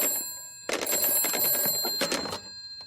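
A cartoon telephone rings in two sharp bursts of electronic trilling, separated by a brief gap, clear and alone.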